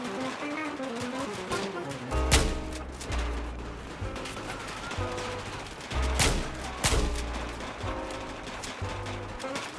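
Gunfire rings out in the video game Battlefield 4, with repeated sharp shots and bursts over a few seconds above a low thudding background.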